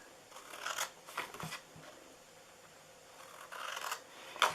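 Large scissors cut paper in a few quiet, irregular crisp snips with soft rustling between them.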